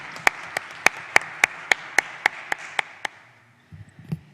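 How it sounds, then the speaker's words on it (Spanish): Sparse, evenly spaced claps ring out at a human rights and environment subcommission session as a presenter is sent off, about a dozen crisp hand claps in a steady rhythm that stop abruptly, followed by faint shuffling. "Los despedimos con otro aplauso."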